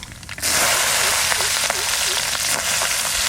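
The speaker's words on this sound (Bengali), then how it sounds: "সর্ষের তেল কালো জিরে ফোড়ন আর দেব রসুন" Nigella seeds and garlic hit hot mustard oil and sizzle suddenly after a brief quiet moment, then hiss loudly and steadily, with faint crackles and a little murmuring voice underneath.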